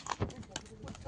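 A horse pulling a cart clip-clops with a few quick hoof strikes close by, partly under people talking.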